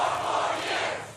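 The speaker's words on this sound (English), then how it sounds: "Crowd got so bored they started chanting." A crowd at a political rally chanting together, a steady roaring mass of voices at moderate distance, continuous and unbroken for a brief stretch.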